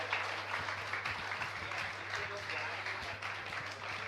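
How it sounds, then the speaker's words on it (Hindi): Audience clapping at a Jain community gathering with a monk's religious discourse, a faint, continuous patter of hands heard over a steady electrical hum. "तालियां बजती रहनी चाहिए"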